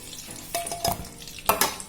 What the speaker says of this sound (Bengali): পটলগুলোকে নেড়ে চেড়ে ভেজে নেব